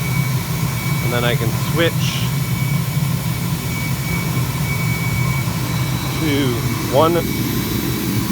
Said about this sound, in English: this is diesel, I can push the flame right out